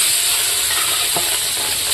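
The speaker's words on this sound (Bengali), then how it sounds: "এখন আমি চিংড়ি মাছগুলো এই তেলে ভেজে তুলে নেব" Prawns frying in hot oil over a high flame, a loud continuous sizzle and hiss with a brief stirring scrape partway through.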